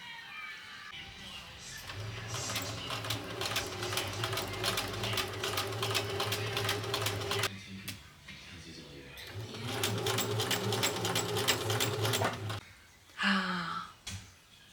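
A sewing machine stitches elastic into a linen bodice in two long steady runs of rapid, even needle clatter with a low motor hum, close and clear, separated by brief pauses with small handling noises.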